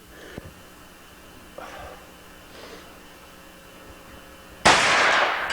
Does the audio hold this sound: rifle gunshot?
yes